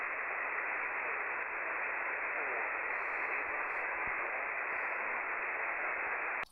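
Ham radio receiver in Minnesota hissing with steady static at the noise floor, a very faint distant station barely buried in the noise and no clear voice emerging.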